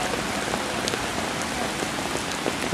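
Steady rain falls outdoors near the Princess Diana memorial fountain in London, a dense, even hiss of drops pattering on surfaces with scattered louder splashes close by.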